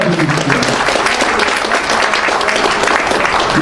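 Loud, dense audience applause fills a forum lecture hall on international diplomacy and security, sustained steadily throughout without pause.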